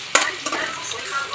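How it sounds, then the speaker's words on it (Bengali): Potatoes fry and get stirred in hot oil for a mutton curry, with sharp scraping clatters of the spatula over a steady close sizzle. "আলুটাকে একটু ভেজে দিচ্ছি লাল লাল করে"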